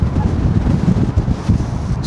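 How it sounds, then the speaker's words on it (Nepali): Strong outdoor wind buffets the microphone in a park, a loud continuous low rumble with gusty swells throughout, with no clear talk over it. "यस्तो हावा चलिरहेछ बेसमारी"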